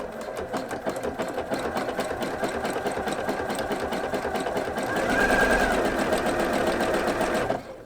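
Sewing machine stitching jersey knit fabric close to the edge for baby leggings, a steady rapid mechanical hum and knocking run that grows louder near the end before stopping abruptly, no talk.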